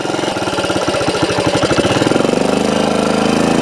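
A 1964 Honda CT90 motorcycle's small single-cylinder engine runs close by, a loud rapid putter that starts choppy and settles into a fast, even chugging as it revs.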